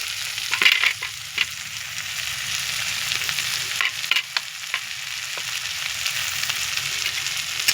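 Soaked sago and mixed vegetables being stirred in a frying pan for sago pulao, a soft steady sizzle broken by sharp scraping clicks of the spatula, close and fairly quiet with no voices.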